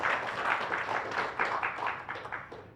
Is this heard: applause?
yes